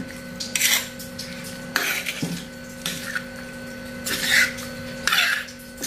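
A spoon clinks against a dish while spicy squid pecak is eaten, a few sharp, close metallic taps spaced a second or so apart over faint background noise.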